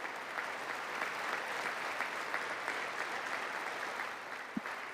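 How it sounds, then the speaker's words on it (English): An audience at the State of the Union address breaks into sustained applause, a steady wash of many hands clapping at moderate distance that holds evenly throughout, with no voices over it. "Everybody just claps."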